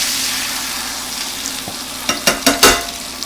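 Chicken pieces for Chicken Florentine, browned on one side, fry in a pan with a steady broadband sizzle; a few sharp scraping clicks near the end as the pieces are turned.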